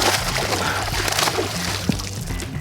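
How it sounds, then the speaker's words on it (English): A hooked bass thrashes beside a boat on Lake Picachos, throwing up a steady wash of splashing and sloshing water close by, with faint voices underneath. "Water flying everywhere."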